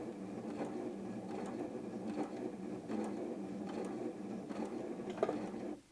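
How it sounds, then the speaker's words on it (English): A Janome M100 QDC sewing machine runs at its slowest speed, a quiet steady mechanical whirr with soft rhythmic needle pulses about once a second, stopping at the end. "no matter how far I push my foot down, it will only sew at the slowest speed"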